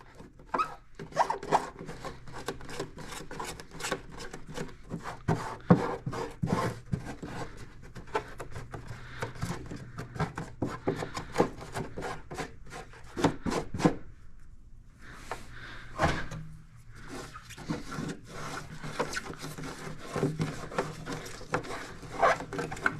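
Snowmobile part for a Polaris 9R build being rubbed down by hand, irregular scraping and rasping strokes at close range, with a few brief pauses.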